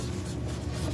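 Paint pen marker tip scratching and rubbing across a car's body panel, applying silver paint in a steady, continuous scribbling sound heard close up, with no talking.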